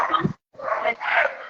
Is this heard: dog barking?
yes